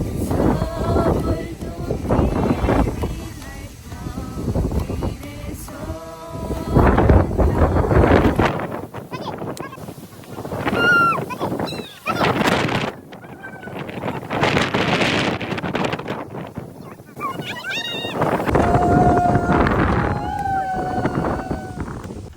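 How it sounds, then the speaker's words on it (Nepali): Strong wind buffets a hilltop in Fukuoka ahead of rain, roaring in loud gusts that swell and drop across the clip while people talk over it. "एकदम बेसरी हावा चलेर पानी पर्न लागेको कारण"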